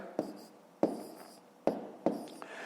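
Numbers are handwritten during a fifth-grade maths exercise, four sharp pen taps with light scratching strokes between them, close and quiet, with no talk.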